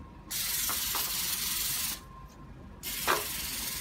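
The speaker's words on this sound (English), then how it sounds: "you need to spray your pan." Cooking spray hisses from a can onto a baking pan for brownies: a long, close burst, a pause, then a second shorter burst.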